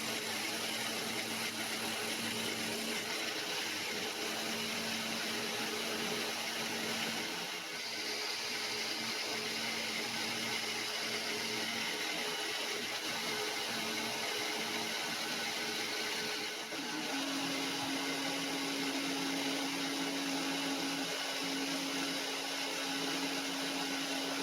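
A metal lathe taking a slow spring pass at 1400 RPM while making a homemade boring head: a steady, continuous machining whir and hum with a faint tonal whine that shifts pitch partway through, no talk.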